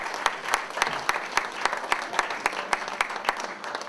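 A crowd gives sustained, even applause for arm wrestler John Shaw from Reno, Nevada at a wrist wrestling and bodybuilding event, with sharp individual claps standing out from the dense clapping.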